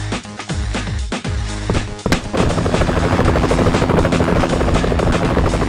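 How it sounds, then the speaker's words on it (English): A rescue helicopter in a zombie shooter game, with loud chopping rotor noise, sharp gunshot-like impacts early on, then a steady, droning engine roar that fills the rest. "I'm communicating with the rescue helicopter! It'll land soon!"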